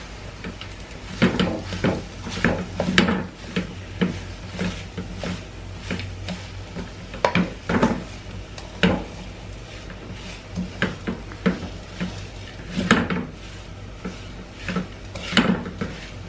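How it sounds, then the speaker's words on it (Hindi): Ground pistachios, cashews and almonds are stirred into melted dates in a pan, giving repeated close clanks and scrapes of a spoon against metal in an irregular rhythm, with no voices. "पिस्ता, काजू, बादाम सारी चीज़ें पीसी थी, इसको अच्छी तरह इसके अंदर मिक्स कर देंगे"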